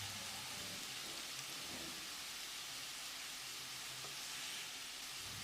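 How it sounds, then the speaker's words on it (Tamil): Potatoes fry in a pan on the stove, a dense, steady sizzle of hot oil that stays constant and close throughout, with no talk over it. "ஒரு 5-6 நிமிஷம் இது கிறிஸ்பியாக வர்ற அளவுக்கு ஃப்ரை பண்ணணும்"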